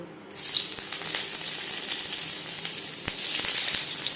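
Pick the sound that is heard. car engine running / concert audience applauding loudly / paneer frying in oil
paneer frying in oil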